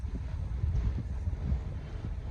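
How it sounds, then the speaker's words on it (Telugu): Strong wind blows outdoors in Bangalore, a steady low rumble buffeting the microphone throughout with no other clear sounds. "సూపర్ గాలి వస్తుంది."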